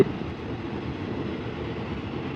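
A passenger train on Thailand's eastern line runs toward Hua Lamphong, giving a steady low rumble of rolling wheels and carriage noise throughout, with no voices.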